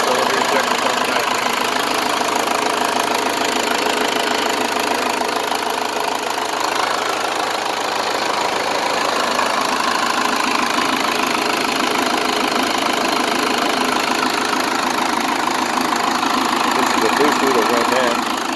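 A Cummins 4BT diesel engine with a one-cylinder injector pump, swapped into a Ford F150, idles with a steady, loud, knocking clatter throughout, close by, with a voice talking over it.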